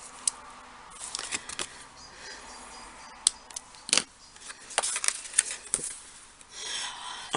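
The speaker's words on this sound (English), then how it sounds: "Just snip that little end off there." Scissors snipping the end off a piece of craft card, a few quiet scattered cuts and rustles close by with no talking.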